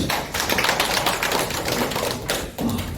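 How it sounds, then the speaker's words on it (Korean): An audience at a seminar on North Korean human rights claps steadily and loudly, a dense continuous wash of handclaps that dips briefly near the end. "우리 박수로 맞아주시죠."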